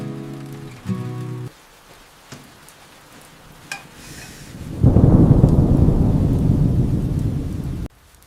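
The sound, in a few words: rain with thunder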